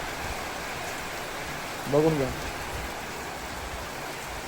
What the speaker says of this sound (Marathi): पाऊस चालू आहे फुल स्विंग मध्ये